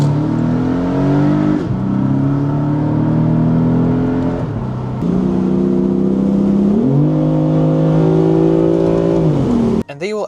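Automatic car driven in manual mode with paddle shifters accelerating on the road, the engine note climbing steadily in pitch, then dropping sharply at each upshift, loud and close over several gear changes.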